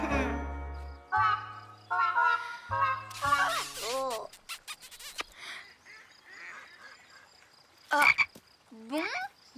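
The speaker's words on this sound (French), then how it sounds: "c'était juste une grenouille" A cartoon frog in the animated series Les Triplés croaks in several loud, low, drawn-out calls, followed by brighter wobbling cries and voices talking.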